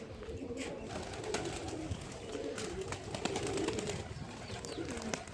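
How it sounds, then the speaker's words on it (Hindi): Pigeons coo softly on a rooftop loft, several low rolling calls repeating at close range over faint background rustle and a few sharp clicks. "ये एक आया कबूतर"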